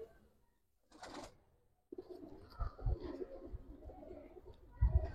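Old-generation gribaz colouring pigeons give soft, low coos close by, with a brief flutter of movement early on.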